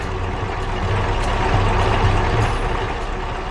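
An animated truck drives toward a railway crossing, its engine a steady, fairly loud rumble with a low droning hum running throughout and no voices.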